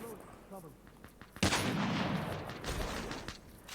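An AK-117 rifle in the mobile game Call of Duty Mobile fires a sudden loud burst that sustains for about two seconds with echoing booms, preceded by someone talking quietly.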